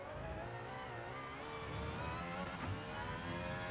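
An Aston Martin Valkyrie's engine in Gran Turismo 7 pulls hard through the gears at the Red Bull Ring, a steady loud buzzing drone rising in pitch with a brief shift partway through.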